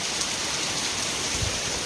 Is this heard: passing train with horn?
no